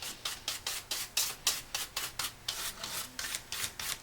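Brush strokes sweeping excess glitter off a handmade greeting card, a steady run of about a dozen quick, rhythmic rasping swishes, close and fairly soft, with no talking.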